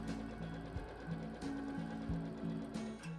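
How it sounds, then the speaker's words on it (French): A sewing machine stitches a jersey neckband seam in short, quiet runs, its soft mechanical whir broken by brief pauses and small clicks. "J'assemble toujours avec un point d'arrêt aux extrémités de la couture"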